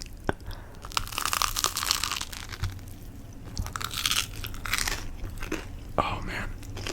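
A crunchy grilled cheese sandwich on toasted bread is bitten and chewed close up, with repeated crisp crunches and steady chewing throughout. Low speech runs faintly underneath.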